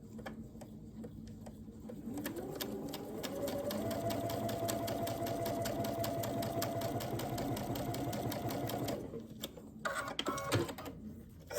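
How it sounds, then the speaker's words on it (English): A sewing machine stitches a quarter-inch seam on a quilt block, a rapid steady mechanical whir and tick. It runs continuously for several seconds, then slows to a few scattered clicks and handling sounds. "So now I'm taking it over to the sewing machine."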